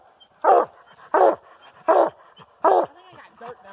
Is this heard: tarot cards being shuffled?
no